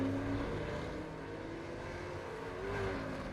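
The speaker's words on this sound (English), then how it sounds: "Could hear an idling car." A race car engine idles in iRacing at Oran Park Raceway during a Super2 Series round, a low steady rumble with faint wavering tones, fairly quiet and continuous, with no voices.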